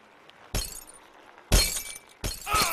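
Glass shatters in the Happy Wheels glass challenge, three sharp, loud crashing bursts arriving about a second apart, each bright and splintering before trailing off, with no talk over them.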